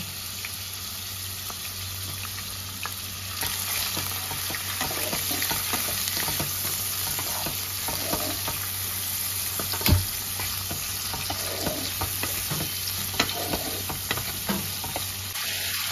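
Prawns frying in hot mustard oil, a steady close crackling sizzle that runs unbroken throughout, with small clicks and scrapes from stirring in the pan and no talking.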